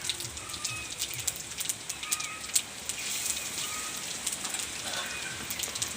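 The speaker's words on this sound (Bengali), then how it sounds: "জিরাটা ফুটে গেছে" A spoonful of cumin seeds sizzles and crackles in hot oil in a pan, a steady close frying hiss sprinkled with small pops.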